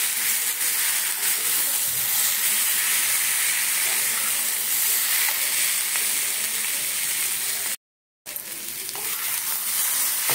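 Vegetables sizzle and fry steadily in a pan while being stirred and sautéed for a Bengali curry to go with moong dal chilla, a continuous close hiss with a brief cut near the end.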